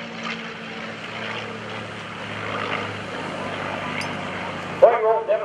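A Red Tail P-51C Mustang propeller fighter performs a slow roll at an airshow, its engine a steady, broad drone at moderate distance, with an announcer talking over it.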